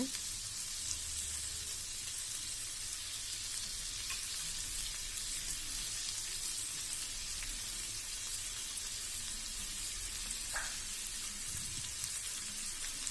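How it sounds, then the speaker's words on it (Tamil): Small onions sauté in a pan for a tamarind curry with okra, giving a steady, soft sizzle throughout, with a faint stir or clink near the end and no talking. "வெங்காயம் போட்டு நல்லா வணக்கி விடுங்க"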